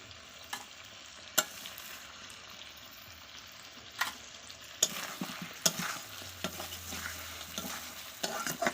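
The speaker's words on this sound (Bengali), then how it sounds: "আমার চিকেন কষানো প্রায় হয়ে গেছে" Chicken kosha being stirred and fried in a pot over a wood fire, with scraping strokes and clattering spoon hits over a low sizzle that grow busier toward the end.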